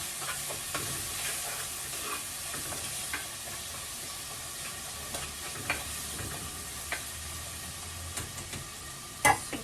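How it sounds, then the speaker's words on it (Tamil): A steady sizzle of onions and tomatoes sautéing in a hot pan for fish curry, with occasional soft scrapes and clicks of stirring, close and fairly quiet. "இதை நல்லா வதங்கட்டும். இங்கே மீன் குழம்புக்கு போட்டு நம்ம வெங்காய தக்காளி நல்லா வதங்கிடுச்சு."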